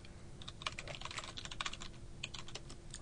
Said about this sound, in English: just typing /user